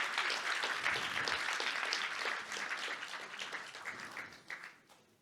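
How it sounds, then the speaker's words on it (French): Audience applause at a closing ceremony of a human rights film festival forum, a dense steady wash of many hands clapping that holds for several seconds, then thins and fades toward the end. "vous pouvez les applaudir"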